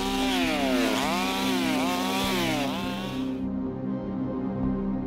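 A newly bought chainsaw cuts wood in the forest to feed a wood-fired oven, its engine droning loud and close throughout, the pitch rising and falling as the chain bites in, then settling into a lower steady rev.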